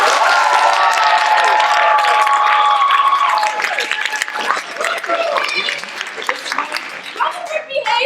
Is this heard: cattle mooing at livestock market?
no